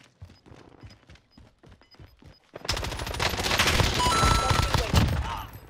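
Scattered single shots from a FARA 83 in Call of Duty: Warzone give way to a loud, sustained burst of rapid gunfire that continues to the end.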